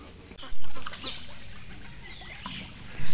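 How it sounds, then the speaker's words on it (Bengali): Ducklings playing in a village pond give off scattered quacks and honking calls, with a couple of louder bursts standing out over the steady outdoor background. "দেখেন কত সুন্দর করে পানিতে খেলতেছে হাঁসের বাচ্চাগুলা"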